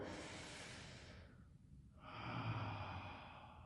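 Heavy breathing during a floor stretching routine on a mat: loud, noisy breaths that fade into a short pause, then a strong renewed inhale, close and alone without talk.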